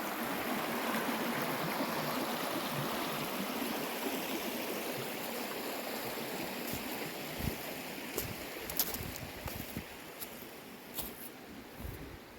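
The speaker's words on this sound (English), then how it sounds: "the water's going pretty good back that way" Snowmelt water rushes steadily along a stream at winter's end, a continuous broadband wash with a few sharper splashes and crackles toward the end, and no voices.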